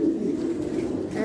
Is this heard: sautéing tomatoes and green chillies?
no